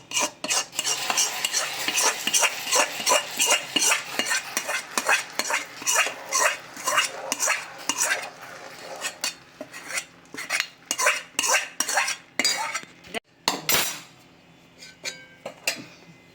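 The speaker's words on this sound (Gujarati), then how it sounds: "આ રીતે હલાવીશું હલાવતા જઈશું" Thabdi peda mixture of curdled milk being stirred in a pan with the gas off: rapid, rhythmic scraping and clinking of a spoon against metal, close and loud, briefly pausing before more strokes, no talking.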